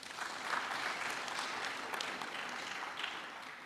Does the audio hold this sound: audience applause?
yes